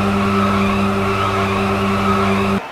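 Tires skid and squeal continuously in an arcade racing game, a loud steady screech with engine drone that cuts off abruptly near the end.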